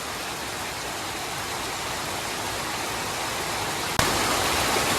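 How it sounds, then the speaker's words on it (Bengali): Heavy rain pours down in a village, making a steady, dense hiss that fills the whole stretch with no break and jumps slightly louder near the end. "অনেক বৃষ্টি হইতেছে।"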